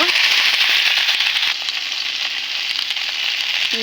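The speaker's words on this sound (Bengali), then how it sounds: "এর মধ্যে আমি দিয়ে দিব কেটে রাখা পটল। ভালোভাবে নেড়ে চেড়ে নেব।" Cut pointed gourd (potol) sizzles loudly in hot oil in a pan, a steady dense frying hiss with faint scraping from stirring, slightly quieter in the second half, with no talking.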